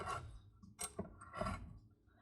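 A few light clicking taps as a dog's claws tick on a hard floor while it paces, faint and irregular against a low background hum.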